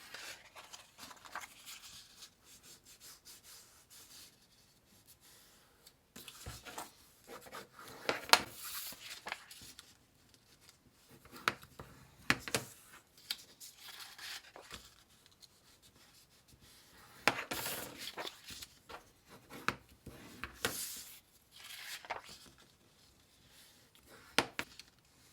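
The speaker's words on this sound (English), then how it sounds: "the paper to crease right along those folds that I've already laid into the page" Stiff paper being creased along folds already pressed into the page, giving soft dry rubs and crisp crackling bursts in irregular spurts with quiet gaps, close and fairly faint.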